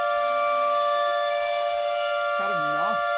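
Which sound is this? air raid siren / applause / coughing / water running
air raid siren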